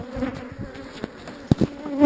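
Honey bees buzz densely around an opened beehive during an early April inspection, a loud, close, continuous drone with individual bees whizzing past the listener.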